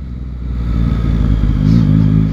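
Engine of a 2021 Yamaha MT-09 Euro5 motorcycle while riding, a loud, close rumble that rises slightly as the bike accelerates, with no talking.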